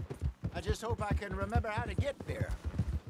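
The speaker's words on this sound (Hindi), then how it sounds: "मजा है भाई हॉर्स राइडिंग करने" A horse galloping in Red Dead Redemption 2 while someone talks over it, the steady rhythmic hoofbeats thudding beneath his speech throughout.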